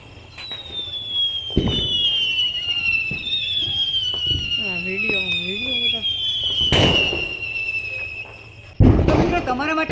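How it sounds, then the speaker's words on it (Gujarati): A Diadem bomb firecracker goes off during Diwali: rising whistling squeals run across the clip, broken by several sharp explosive bangs, loud and close, with voices heard faintly in between. "તો મિત્રો આપણે ફાઇનલી બીજો બોમ્બ જગાવી નાખ્યો છે ડાયડમ બોમ્બ."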